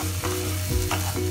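Capsicum and tomato sauce sizzle steadily in a hot pan while being stirred, with a continuous close frying hiss and a few soft scraping strokes over just over a second, no voices.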